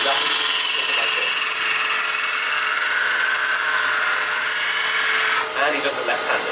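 A wood lathe gouge roughs down a bowl without bevel support, giving a steady, loud, high scraping whir that runs continuously and shifts slightly near the end, with talk mixed in.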